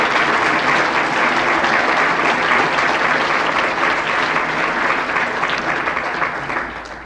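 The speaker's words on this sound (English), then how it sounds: "he deserves a nice round of applause" At a Chamber of Commerce annual awards banquet in Fairfield, Iowa, the audience gives sustained applause: thick, continuous clapping from a large room that stays loud throughout and tapers slightly at the end.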